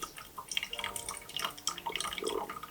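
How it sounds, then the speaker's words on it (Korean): Brewed pu-erh tea, a 2006 Nangan Fenghuang purple-stem leaf, pours from a teapot in a steady, splashing trickle with small drips, close and fairly quiet, with no talk. "출수가 시원하게 잘 되고 있습니다"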